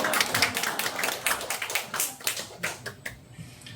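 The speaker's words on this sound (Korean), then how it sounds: "박수 한번 이럴 때 한번 주셔야 됩니다. 박수 소리가 이게 많이 안 나오네요." A church congregation clapping, a scattered and fairly thin burst of many hands with uneven, individually audible claps that taper off near the end, no voices over it.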